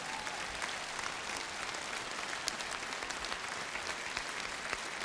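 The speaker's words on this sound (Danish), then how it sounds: "holdningsorkestret og dirigent James Morgan, skal have sig et ordentligt bifald." An audience at a Christmas show applauds an entertainment orchestra and its conductor, giving sustained, dense clapping that stays steady and loud throughout with no talking over it.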